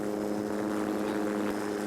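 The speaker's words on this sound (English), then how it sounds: "Now on board with Cunningham, with the Helipro helicopter in full view, taking some fantastic shots here in the Manawatu." A Helipro helicopter hovers over a rally stage in the Manawatu, its rotor and engine making a steady, continuous droning roar with no talk.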